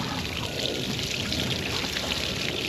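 Water running steadily from a freshly opened supply, a continuous broadband hiss and rush with no talk, heard while testing a Johnson outboard's tilt and trim.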